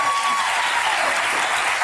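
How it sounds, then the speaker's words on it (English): Studio audience at a daytime talk show breaks into steady, dense applause, a continuous wash of clapping heard alone for the whole stretch. "give them a little applause here"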